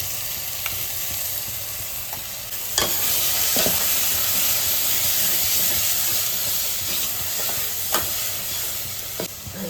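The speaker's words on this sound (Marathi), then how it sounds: "सगळ्याला तेल सुटेपर्यंत भाजून घेतो" Onion, tomato, garlic and coriander paste fries in oil in a pot for a Kolhapuri tambda and pandhra rassa, giving a steady loud sizzle throughout with occasional stirring scrapes and sharp crackles.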